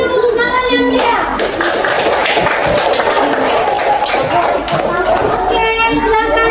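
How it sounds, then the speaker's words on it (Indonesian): A third-grade primary school class claps for the winning group, dense and continuous applause from many small hands filling the room, mixed with children's chatter. "Kasih tepuk tangan yang meriah."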